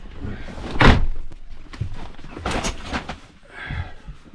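A drawer opens with a heavy thunk followed by scraping and rattling knocks, loud and close, with indoor clatter continuing afterward.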